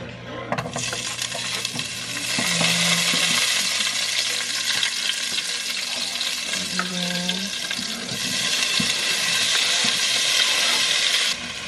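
Garlic and tomato sautéing in a little oil in a pan, a steady close sizzle and frying hiss that runs throughout, broken by a few soft stirring scrapes.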